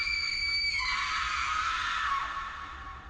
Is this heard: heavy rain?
no